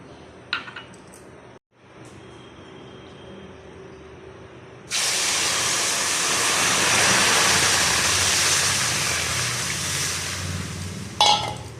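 A steady, loud rush of water poured into a pot of rice starts partway through and continues, broadband and splashy, after a quieter stretch with faint clinks.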